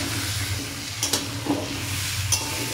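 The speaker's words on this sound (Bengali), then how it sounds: "আমি আলুগুলোকে এরকম করে ভেজে নেবো।" Potatoes frying in hot oil in a home kitchen: a steady loud sizzle with a low hum underneath and a few brief stirring clinks, no talking.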